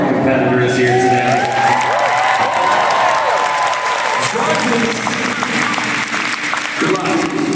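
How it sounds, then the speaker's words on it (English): A convention audience applauds cosplay competitors, a dense, loud wash of clapping mixed with crowd noise and scattered voices running steadily through the whole stretch. "finally a huge round of applause for all of our competitors here today"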